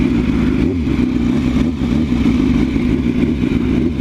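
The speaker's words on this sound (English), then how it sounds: "I rev it just a bit to give it" Engine drone of a Kawasaki Z900 motorcycle, a steady loud mid-pitched rumble with slight swells as the throttle is blipped, sounding close and continuous with no speech.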